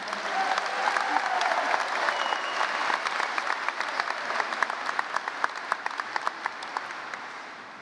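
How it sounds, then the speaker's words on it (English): A high school graduation crowd applauds in a long, full burst that gradually thins into sparser individual claps toward the end. "One last round of applause for Quincy and Latasha."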